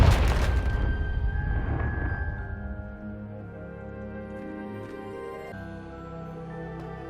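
A Confringo blasting spell explodes in the Hogwarts Legacy video game: a loud, close boom in the first second, then a long, fading rumble with ringing tones that linger beneath it.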